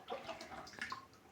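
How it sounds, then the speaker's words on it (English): Water is poured over a stick into a basin while making homemade kitchen liquid soap, giving a faint, brief splashing trickle without talk. "I'm pouring water on it so that it gets into the basin"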